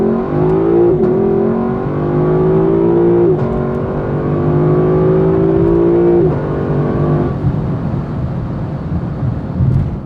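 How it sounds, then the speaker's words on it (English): A 2020 Lexus LC 500 coupe's V8 accelerating at full throttle in Sport Plus mode, a loud close roar that climbs in pitch through several upshifts, each marked by a brief dip, then settles into a steady drone. "I'm just gonna take my foot off the brake, plant that accelerator to the floor."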